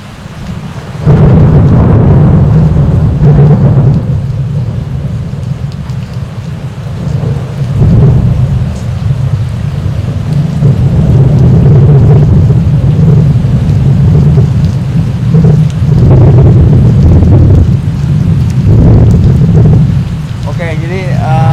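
Heavy rain pours steadily through a thunderstorm at a fishing spot, with deep rolling thunder rumbling loud and close throughout and brief voices surfacing now and then.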